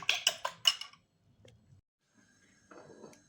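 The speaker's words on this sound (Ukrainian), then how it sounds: "Тепер беру два яйця, виделку і збиваю гарненько." A fork beats two eggs in a bowl for brizoli, giving four quick, bright clinks in a row, then a pause and a softer run of scraping and tapping close by.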